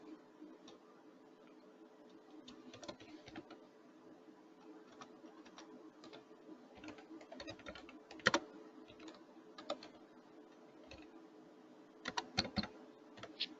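Computer keyboard typing during CT testing software work: soft, irregular key clicks in short bursts with a few sharper taps, close and fairly quiet over a low steady hum, with no talking.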